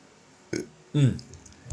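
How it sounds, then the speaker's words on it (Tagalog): A single loud, low, throaty burp erupts near the end of the second, after a short vocal sound, with quiet pauses between them. "Na-burp pa ako."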